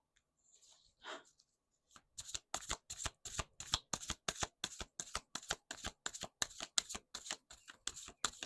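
A deck of playing cards is shuffled in a quiet room, a rapid run of crisp riffling bursts at a steady rhythm, close and clear, after a brief rustle at the start.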